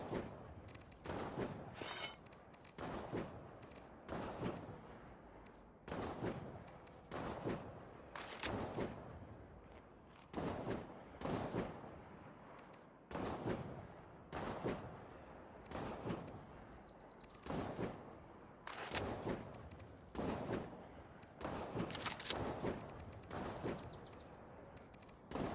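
Gunshots in the game State of Decay 2 come as repeated sharp reports in loose clusters, some single and some in quick volleys, spread steadily across the whole stretch with no talk over them.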